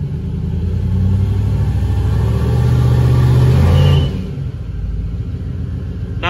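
A turbocharged LS engine in a Caravan revs in third gear, a loud, close, sustained rumbling drone that climbs for several seconds and then drops off abruptly to a lower idle.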